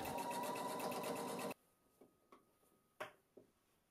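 A sewing machine stitches tape along the edge of a fabric scrub cap, a fast steady whirring run that stops abruptly, followed by a few faint clicks and knocks.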